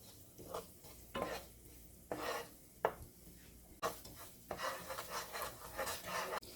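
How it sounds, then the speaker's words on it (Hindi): Semolina is roasted in a pan for suji halwa, stirred with repeated rhythmic scraping strokes over a faint sizzle, fairly quiet and close with no voices. "इसको भुनने में तकरीबन 8 से 10 मिनट लगेंगे।"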